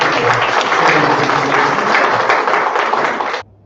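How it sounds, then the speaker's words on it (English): An audience applauds loudly, with dense clapping that holds steady for a few seconds and then cuts off abruptly. "Let's give them a round of applause."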